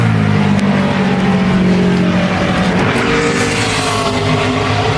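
A NASCAR Sprint Cup race car on a qualifying lap at Richmond International Raceway roars loudly at high revs, its engine note shifting and easing through the corner with faint tire scrub.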